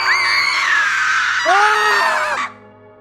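Several people screaming in terror as a horror sound effect, with a long shrill shriek overlapped by lower anguished cries for about two and a half seconds before it cuts off abruptly.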